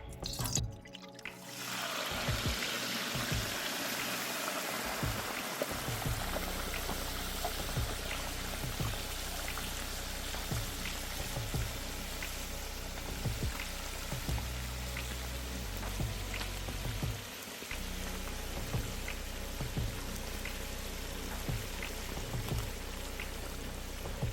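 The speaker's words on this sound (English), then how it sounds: "we're going to slowly place this turkey in this oil" Steady, loud bubbling and crackling of a whole turkey frying in hot oil, a continuous sizzling roar with scattered pops, no talking.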